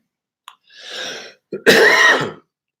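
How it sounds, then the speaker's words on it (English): A wet, throaty cough heard up close, preceded by a breathy throat-clearing burst, then a louder, harsher cough that trails off. "That cough is virus free."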